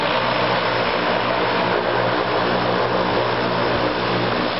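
A de Havilland Turbo Beaver floatplane takes off from White Trout Lake with a loud, continuous turboprop roar and propeller drone that holds steady throughout.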